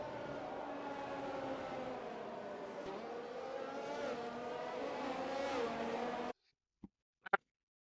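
Racing car engines in a sim racing game at the Austrian round, a steady whining drone of several cars with shifting pitch that cuts off abruptly near the end, followed by a few short clicks.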